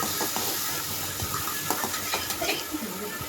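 Green chilli and curry leaves sauté in hot oil for a homemade chicken curry, giving a soft, steady sizzle and hiss with faint stirring taps underneath.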